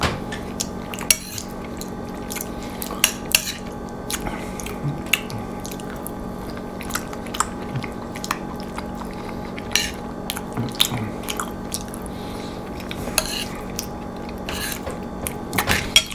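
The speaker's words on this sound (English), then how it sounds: "When I hear myself chewing," A person chews food during a home mukbang-style meal, with soft repeated wet chewing and clicks of cutlery against dishes, close and fairly quiet throughout with no talking.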